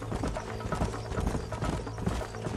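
Horse hooves clip-clop at a steady walking pace in Red Dead Redemption, close and continuous over a dense bed of game ambience, with no talking.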